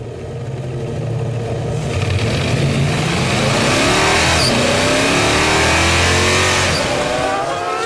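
Formula 1 cars from the 2009 season roar away at a wet race start after a safety car, engines rising in pitch together as a dense, loud wall of accelerating sound with overlapping rev sweeps.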